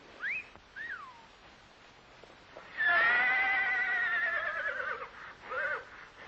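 A horse whinnies in a high, wavering neigh, with a couple of short calls early on and then a long, loud drawn-out whinny, followed by a brief final call; no talking.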